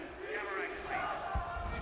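Fans of the esports team DarkZero cheering in a Rainbow Six Manchester Major semifinal arena, a sustained crowd roar with shouts, heard beneath commentators talking.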